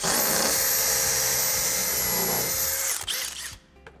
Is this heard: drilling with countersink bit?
yes